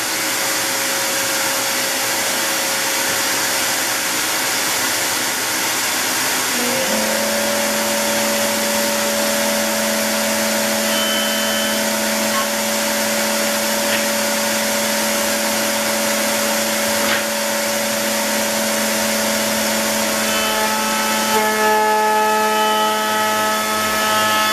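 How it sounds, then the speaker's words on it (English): A Triton-style router system runs continuously, rounding over the edges of cut-out wood pieces for a step stool, with a steady loud whine whose pitch shifts slightly partway through and no talking. "I'm going to take and round over all the edges on this wood that I've cut out now."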